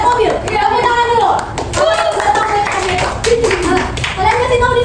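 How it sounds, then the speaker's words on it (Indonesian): Classroom of children clapping hands together during a microteaching lesson, a brief burst of claps mixed with young voices chattering over it. "Tepuk tangan dulu."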